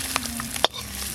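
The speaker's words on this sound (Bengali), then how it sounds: "মাছের তেল তো খুব ভালো করে ভাজা হয়ে গেল" Fat from a large katla fish sizzling as it fries in a pan, a steady close hiss with a couple of sharper crackles and pops.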